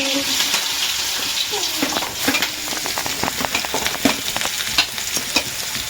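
Onion, chillies and garam masala fry in hot oil in a kadai, giving a dense, constant sizzle close up, with repeated scraping strokes of a spoon stirring through the pan.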